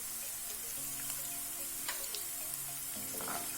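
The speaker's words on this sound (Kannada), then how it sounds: "ಒಂದು 10 ರಿಂದ 15 ಸೆಕೆಂಡು ಹಸಿಮೆಣಸಿನ್ಕಾಯಿನ ಬೇಯಿಸ್ಕೊಳ್ಳಿ." Green chillies fry in hot oil in a pan for a rice dish, a steady, quiet sizzle with a few faint stirring clicks.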